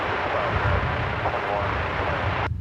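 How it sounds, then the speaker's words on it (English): An Airbus A380 takes off in daylight at DFW Airport, a loud, steady broadband jet roar that holds unbroken for over two seconds before cutting off abruptly. "the A380 gets a daylight takeoff here"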